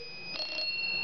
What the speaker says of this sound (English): And the bell's inside, so if you have your hand on it, it still rings nicely.